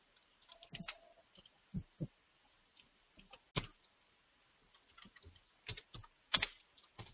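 Scattered keystrokes tap on a computer keyboard, quiet and close, coming in short irregular bursts with pauses between them and no talk.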